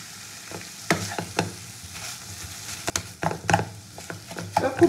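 Fish chop filling being stirred in a pan, with lemon juice just added: close scraping and stirring strokes at an irregular rhythm over a soft sizzle, with no talking.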